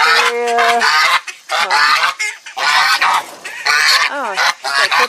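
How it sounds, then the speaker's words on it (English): Geese honk loudly and close by in harsh, repeated calls that overlap in bursts, with brief gaps between the volleys. "Just got attacked by the goose."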